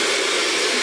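A Laifen hair dryer blows with a steady, smooth airy whoosh at a moderate, fairly quiet level, running alone without any voices.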